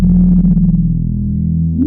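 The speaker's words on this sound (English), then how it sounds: "When you get to full resonance, you do start to get some distortion here." A Behringer Neutron analog synthesizer with its filter at full resonance gives a loud, buzzy, gritty low drone with a distorted growl that wavers and then swells near the end; no talking.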